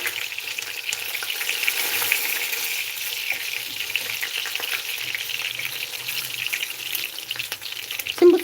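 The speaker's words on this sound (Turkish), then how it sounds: "Soğanları özellikle biraz böyle yakıyor gibi oluyoruz. Çok güzel lezzet veriyor. Ve patlıyorlar tabii ki." Onions frying in hot oil in a pan, a close continuous sizzle with scattered small pops and occasional stirring.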